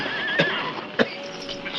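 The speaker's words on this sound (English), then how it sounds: "the horses whinnied loudly" Horses whinnying loudly in an old-time Western radio drama sound effect, two or three sharp neighs rising over a busy background with faint hoof clatter.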